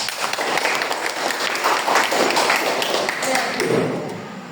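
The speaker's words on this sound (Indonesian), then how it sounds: "Beri aplaus untuk Hera" A classroom group of students gives a short burst of applause for a classmate, muffled, uneven clapping and tapping that rises and fades over a few seconds, with some faint voices mixed in.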